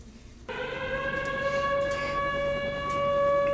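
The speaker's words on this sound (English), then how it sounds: "Coming out to the sirens." An air raid siren opens a heavy rock song intro, starting abruptly and sustaining a loud, steady wailing tone with faint accompanying sounds as it slowly swells.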